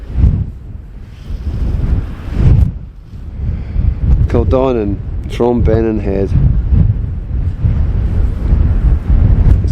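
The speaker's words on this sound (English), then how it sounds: "It's very windy up here," Strong wind buffets the microphone on the cliff top at Bennan Head on the Isle of Arran, a loud rumbling roar that surges in gusts while someone speaks over it.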